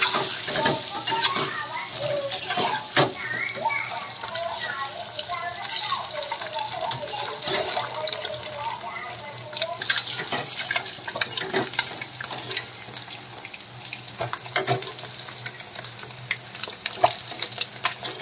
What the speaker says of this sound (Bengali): এবার আমি ডিমগুলো ভালো করে ভেজে নেব